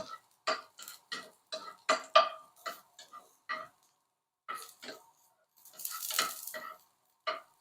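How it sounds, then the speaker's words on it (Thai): Sliced garlic is stir-fried in a pan while a spatula scrapes and taps repeatedly, sharp close strokes in an uneven rhythm with a short sizzling burst near the end. "กระเทียมลงไปผัด"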